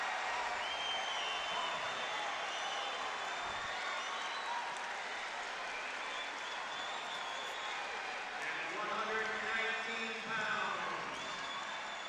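A crowd at a 2001 state high school wrestling championship cheers and applauds after a quick pin, a broad, fairly distant roar swelling toward the end, with an announcer's voice talking over it.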